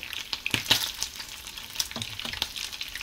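Rice frying in a pan for a salted egg fried rice breakfast with tinapa, a soft crackling sizzle with scattered pops and spatula scrapes, close and fairly quiet, no talking.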